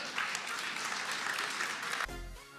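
Crowd at a Jordan Peterson debate cheering and applauding, a dense steady wash of clapping and shouts for about two seconds before it cuts abruptly to a lower, tonal background.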